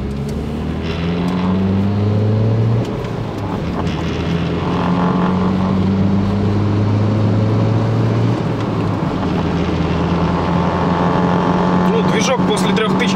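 Engine of a 2007 Hyundai Accent with manual gearbox while driving in third gear, a loud continuous hum that rises and steadies in pitch, heard close from inside the cabin with someone talking over it.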